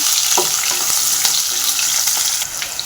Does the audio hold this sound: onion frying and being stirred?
yes